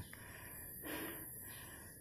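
A person panting after climbing a hundred stairs to a hilltop pilgrimage site lets out one sharp breathy gasp midway, with quieter breathing around it.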